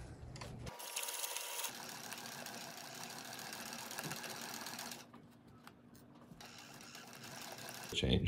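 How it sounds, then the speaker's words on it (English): Sewing machine stitching canvas for a winter camping hot tent, running steadily and loudly with a continuous mechanical whir, easing slightly toward the end before a brief clatter; no talking. "We're gonna start sewing."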